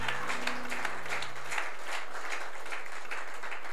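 Congregation in a church clapping and cheering, with a steady, sustained wash of applause filling the space from start to finish while low organ or keyboard tones hold underneath.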